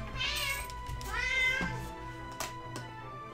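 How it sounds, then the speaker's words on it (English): A cat meowing close by, several drawn-out rising and falling meows in a row, fairly loud, with a low steady hum underneath. "Yes, cat. The people have heard you the first time."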